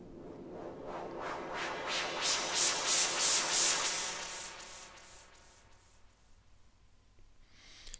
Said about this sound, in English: You should be well on your way to creating cool sweeping effects within Caustic.